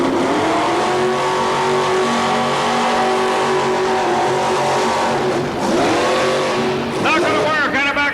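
Loud, continuous roar of a 1987 drag racing car at full throttle, harmonic engine tones holding steady then dipping and sweeping as the driver lifts off, with tire noise near the end after a blown right front wheel.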